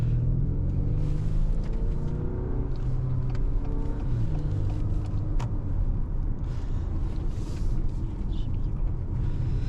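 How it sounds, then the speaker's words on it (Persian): Engine of a 2025 Acura RDX while driving, a steady, continuous low rumble with road noise at constant loudness throughout, no voices over it. "صدای موتور البته که اگر هم زیاد میشنوین صدای موتور رو"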